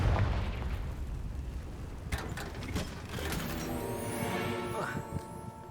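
In Hogwarts Legacy, the Confringo blasting spell goes off with sharp, booming explosive bursts over clanking, mechanical game noise and fading debris, loud and close.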